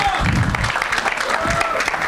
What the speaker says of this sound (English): So you have to clap for me also